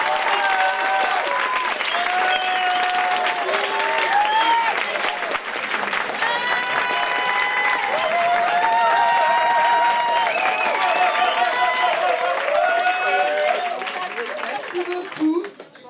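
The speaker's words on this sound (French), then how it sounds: "vague d'applaudissements pour nos deux finalistes" Sustained applause from an audience greeting the two finalists of a negotiation competition final in Haute-Garonne, with crowd voices and calls mixed through the clapping for about fifteen seconds before it thins out at the end.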